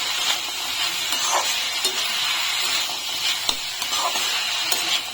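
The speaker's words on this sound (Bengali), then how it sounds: "পাঁচ মিনিট ধরে এখন নাড়িয়ে টাড়িয়ে ভেজে নিয়েছি আরও কিছুটা ভাজা হবে" Radish frying in a pan gives a steady, close sizzle throughout, with occasional light stirring scrapes and faint clinks and no talk.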